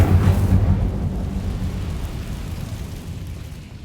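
A fiery Incendio spell cast in a Harry Potter video game, a loud low roaring whoosh that swells at the start and then slowly fades into a rumbling tail.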